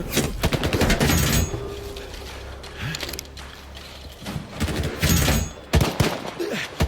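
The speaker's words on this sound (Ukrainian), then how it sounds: "Чому вони стріляють? Якого хріна ви стріляєте?" Bursts of rapid gunfire crack in volleys over a dense, noisy background, with mechanical clatter between the shots, in the video game S.T.A.L.K.E.R. 2.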